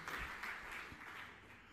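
A church congregation claps in a brief, soft burst of scattered applause, faint and fading within under two seconds.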